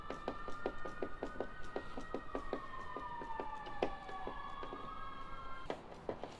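A wailing emergency vehicle siren holds a steady, slowly gliding tone at moderate distance, accompanied by a regular series of sharp ticking clicks.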